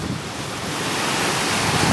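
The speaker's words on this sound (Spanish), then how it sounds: "le encanta escuchar el sonido del mar" Steady sea surf washes along the shore at Boca del Río, Veracruz, as a continuous broad roar mixed with wind buffeting the microphone, with no speech.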